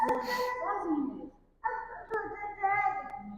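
A pet dog making short yips and whimpers close by, mixed with a voice and an adult talking in a home setting.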